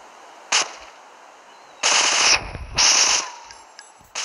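An M16 assault rifle fires in the video game GTA 3, giving short loud bursts: a brief shot, then a longer burst, then another, with quiet gaps between.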